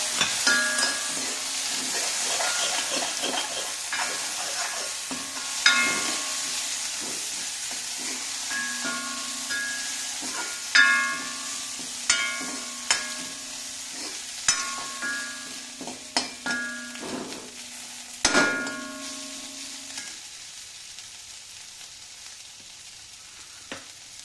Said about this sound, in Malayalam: ഇനി നമ്മൾ ബാക്കിയുള്ള തക്കാളിയും കൂടി ഇട്ട് നന്നായിട്ട് ഇളക്കുകയാണ് ചെയ്യുന്നത്.